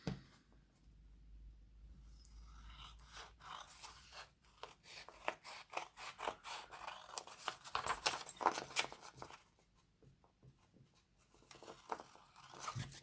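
Paper being trimmed with scissors for a mushroom-themed journal kit: a close run of crisp, rapid snips and rustles, dense in the middle then a short pause before more cuts, with no talking.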